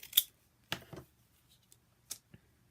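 Scissors snip through paper while a straight cut is made, giving a few sharp, quiet crisp clicks spaced apart in an otherwise silent room.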